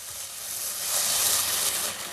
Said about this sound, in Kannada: ಸೊ ಟೊಮೆಟೊ ಆಡ್ ಮಾಡಿ ಸ್ವಲ್ಪ ಹುರ್ಕೋಬೇಕು, ಇದನ್ನ ರೋಸ್ಟ್ ಮಾಡ್ಕೋಬೇಕು